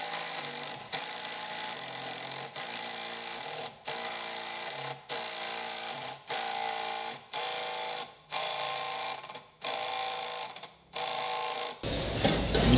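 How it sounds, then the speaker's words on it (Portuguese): A power drill bores a hole and then drives a screw into a wooden table leg, a steady whirring motor cut by about ten short pauses as the trigger is released and squeezed again, close and loud, with no talk. "Fez o furo, coloque o segundo parafuso e aperte."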